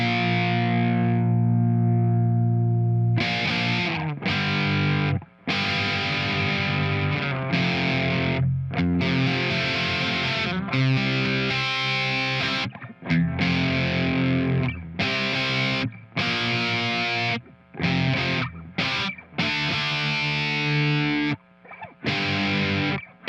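Heavily distorted electric guitar through the Bias FX Desktop amp simulator plays chugging riffs and sustained chords, loud and up front, with short silences between phrases and no voices.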